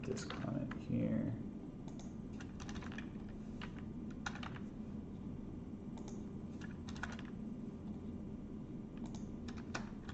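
A computer keyboard is typed on in short, irregular bursts of light clicking while a code comment is written, with quick keystroke clusters spaced across the stretch over a steady low background hum.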